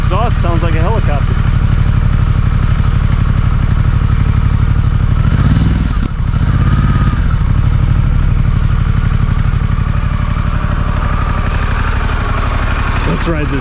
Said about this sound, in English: Exhaust sounds like a helicopter.